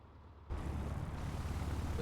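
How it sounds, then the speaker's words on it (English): A PA-38 Tomahawk light aircraft engine heard from inside the cockpit in a flight simulator: a steady, low, droning rumble that starts abruptly after a brief quiet lead-in and holds at an even level. "This is the sound of the aircraft on the inside here."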